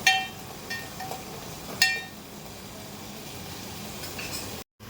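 Peas frying in a pan for matar bharta, a soft steady sizzle under occasional clinks of a utensil against the pan, fairly quiet and close.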